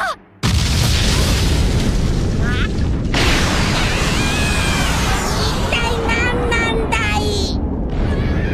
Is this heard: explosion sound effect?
yes